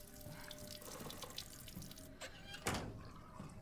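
A water tap runs in the video game Resident Evil Village, a steady splashing stream into a sink with a few faint clunks, heard alone at moderate loudness.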